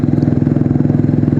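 A Royal Enfield Bullet Classic 350 motorcycle engine idling with a steady, rapid thumping beat, close and fairly loud, with no talk over it.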